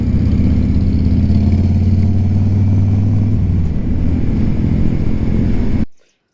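A Harley-Davidson motorcycle on a hill road gives a loud, steady engine drone with a deep rumble that holds evenly for several seconds, then cuts off abruptly.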